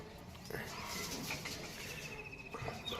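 Released pigeons coo and flutter nearby, soft bird calls and wingbeats over a quiet, steady outdoor background.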